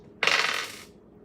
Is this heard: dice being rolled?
yes